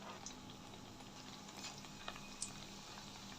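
Bread slices dipped in gram-flour batter fry in hot oil for bread bajji, giving a faint, steady bubbling hiss with a few soft crackles and ticks, heard alone.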